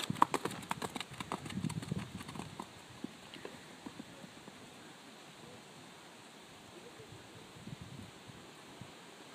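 A ridden Welsh pony's hooves clip-clop faintly, in quick irregular steps that are clearest at the start and fade into soft outdoor background noise.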